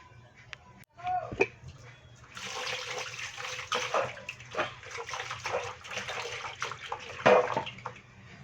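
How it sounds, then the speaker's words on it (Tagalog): Stingray meat is rinsed under running water, with a loud hissing stream, splashing and handling noises close by after a quiet start, and a voice talking faintly in the background. "Ngayon, huhugasan na natin siya bago siya pakuluan natin ng tubig para mahimay natin yung pagi."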